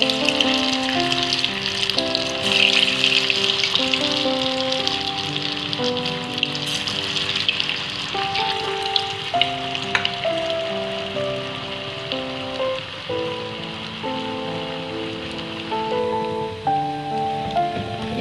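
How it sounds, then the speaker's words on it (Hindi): Vegetable Manchurian balls deep-fry in hot oil, a continuous bubbling sizzle like light rain, partly masked by melodic background music playing throughout. "हमारे बॉल्स रेडी हो चुके हैं, इसको गरम तेल में हम फ्राई कर लेंगे।"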